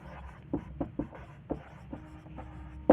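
Handwriting on a board during a lesson: a faint series of irregular taps and short scratchy strokes, closely spaced, with a sharper knock at the end and no talk.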